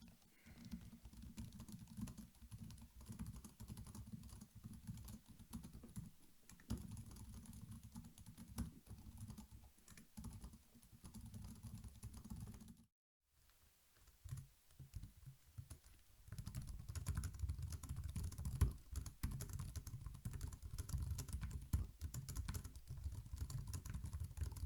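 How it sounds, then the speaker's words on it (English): Typing on a Lenovo ThinkPad T480 laptop keyboard and then on a Lenovo ThinkPad TrackPoint Keyboard II, with dense, steady key clatter throughout, a brief silent break near the middle, then a fuller, louder stretch of keystrokes. "let's have a listen to a few samples of me typing first on the T480 and then on"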